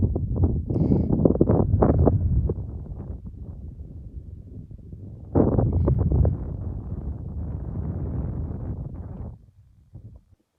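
Steady gusting wind buffets the microphone with a low roar, surging strongly in a few bursts before dropping away at the end.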